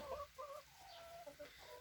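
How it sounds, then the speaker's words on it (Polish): Hens, mostly brown, cluck softly in a backyard farm run, with a few short, faint calls that repeat at an uneven pace over quiet background noise. "Czasem przychodzi tutaj do mnie kogut od sąsiada."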